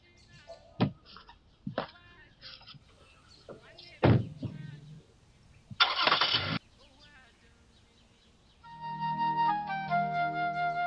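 A car door thuds, then an engine cranks and catches near the end, idling with a steady hum; scattered knocks and clunks come before it, and voices are heard in the scene.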